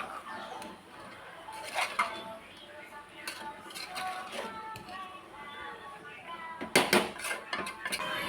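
A spoon stirs kurma masala in a cooking pot, making soft, scattered clinks and scrapes against the metal, quiet and close, with light kitchen noise around them.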